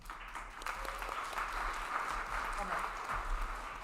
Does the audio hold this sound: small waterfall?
no